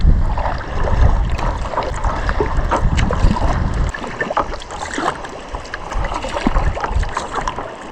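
Kayak paddled alone on one of the Great Lakes north of a marina: continuous rushing water and paddle splashes under heavy, blustery wind buffeting the microphone.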